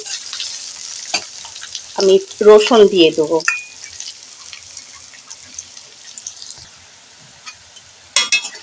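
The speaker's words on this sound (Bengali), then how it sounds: "পেঁয়াজ কুচিটা এইভাবে নাড়াচাড়া করে ভেজে নেব" Chopped onions fry and get stirred in oil in a pan, giving a steady sizzle with scraping stirs. A voice speaks briefly partway through.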